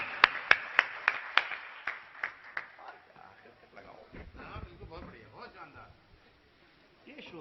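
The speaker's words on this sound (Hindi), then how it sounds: "बरेली के लोगों जरा हाथ उठा करके तालियों में बदल करके बता देना" Audience in an auditorium in Bareilly gives a short burst of sharp claps that thin out into scattered hand claps, while someone speaks over the fading applause.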